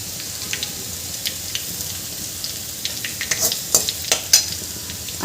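Crushed garlic sautéing in hot oil for methi bhaji, a steady close sizzle with scattered crackles and soft stirring scrapes, no one talking.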